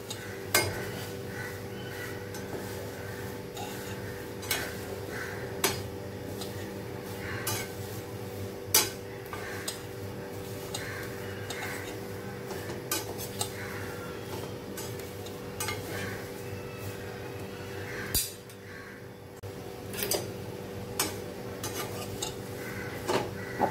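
Poha, flattened rice, is stirred in a pan while dry-roasting for chivda, with light repeated scrapes and soft clinks of the spoon over a steady low hum and no talking.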